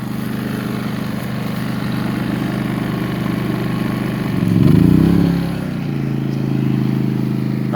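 A Westinghouse iGen4500 or Briggs and Stratton P4500 portable generator runs steadily, then surges and revs up as a waffle iron and fan load of about 2,000 watts kicks in, before settling back to a slightly higher steady drone.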